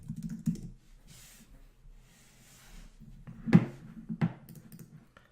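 Keys are pressed on a computer keyboard to type a short search term: sparse scattered clicks, two of them louder, over a low, steady room hum, close by and with no talking.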